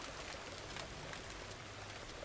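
Continuous soft rainfall on the farm in Farmer's Dynasty, a uniform gentle hiss with scattered drop ticks, quiet and unbroken.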